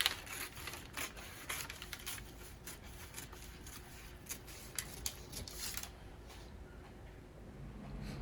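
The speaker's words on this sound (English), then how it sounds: "I'm just going to cut out the pattern, after which I will cut out my sleeve." Scissors cutting out a paper sewing pattern for a puff-sleeve top, quiet repeated snipping and rustling of paper at close range, fading softer toward the end.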